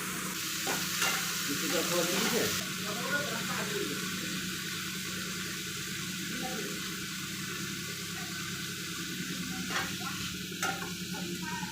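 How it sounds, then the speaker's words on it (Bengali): Shrimp fry in a pan with a steady, close sizzle and intermittent stirring and scraping, and a faint voice is present at times. "চিংড়ি মাছগুলো ভেজে নিই।"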